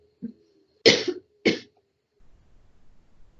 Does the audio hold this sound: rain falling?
no